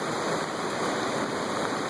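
Floodwater from the Fox River rushes in a steady, loud, close roar without pause, and no one speaks.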